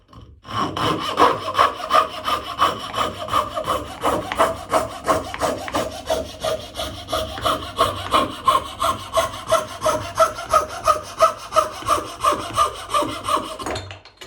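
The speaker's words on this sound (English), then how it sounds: "I'm going to use trusty coping saw again." A coping saw cutting through a wooden sword blank, steady rhythmic back-and-forth strokes with a rasping bite on each pass, close and loud, continuing for the whole stretch without any talk.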